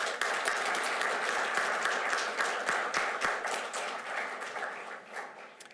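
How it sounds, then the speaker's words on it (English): Audience applause at a transit agency Operator of the Year award ceremony, steady close clapping from a crowd sustained for several seconds before slowly thinning out. "So let's give her a big round of applause."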